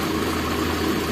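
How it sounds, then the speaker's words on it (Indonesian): A car engine idles steadily while its radiator is drained and refilled, a constant low rumble with no other sounds over it. "Ini kondisi mesin dalam keadaan menyala."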